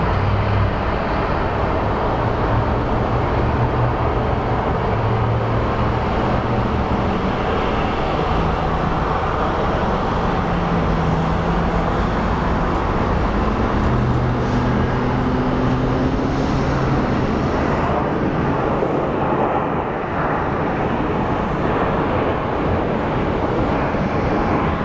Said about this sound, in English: So it looks like an A321 that's coming in.